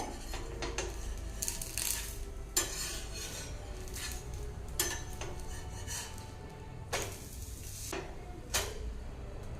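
Ragi roti being flipped and handled on a pan, a series of sharp metallic scrapes and clinks of a utensil against the pan at irregular intervals over a faint sizzle, no talk.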